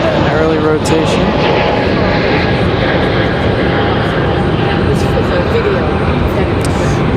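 A Frontier Airlines jet lifting off early from Raleigh-Durham International, engines roaring loud and continuous from start to finish as voices chatter over the din.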